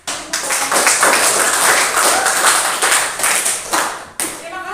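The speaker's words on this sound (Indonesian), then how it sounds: "Kita berikan tepuk tangan." A school classroom applauds after a group presentation in a chemistry lesson: dense, steady clapping from many hands, loud and close, lasting several seconds before tapering, with a few voices mixed in.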